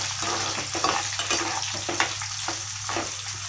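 Curry leaves fry in hot oil for a tomato and ripe chilli chutney, giving a steady loud sizzle with crackling bursts and stirring throughout, no voices.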